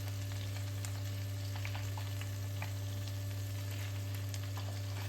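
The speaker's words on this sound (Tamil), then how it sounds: "அதர் சைடு அப்படி மாற்றி மாற்றி நல்லா ப்ரௌனிஷ் ஆகிற வரைக்கும் நல்ல பிளாக் ப்ரௌன் ஆகிற வரைக்கும் நம்ம ஃப்ரை பண்ணி எடுத்துக்கலாம்" Chicken pieces for shawarma fry in a pressure cooker, giving a constant close sizzle with a steady low hum beneath and scattered small crackles, and no talking.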